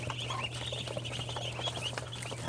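Hungry ducklings peep in a dense, continuous chorus of high chirps while being fed, close up, with a low steady hum underneath.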